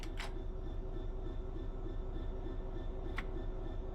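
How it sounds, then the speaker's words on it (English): A Class 66 diesel freight locomotive in the Train Sim World 5 simulator starts rolling forward, producing a continuous low engine and rail rumble with a couple of brief higher clicks. "We want to move the train forwards, so move the reverser in that direction."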